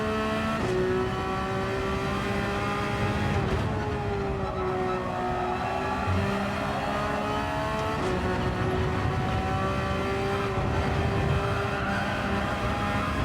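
Engine note of a Porsche 911 992 GT3 R race car at Lago Maggiore, a loud sustained in-car drone with pitch dipping briefly as the throttle lifts mid-corner, then rising again under steady acceleration.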